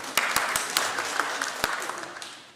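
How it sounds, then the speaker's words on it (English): Scattered, thin clapping from a small audience at a speaker series talk by Alejandro Mayorkas, a few sharp individual claps standing out, with voices murmuring underneath. "a smattering of applause."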